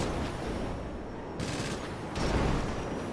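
A machine gun on an NPC-driven vehicle in a video game fires in short controlled bursts, two dense volleys standing out over a steady background rumble.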